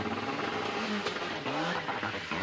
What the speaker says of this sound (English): Eventually, Francois gets the engine going,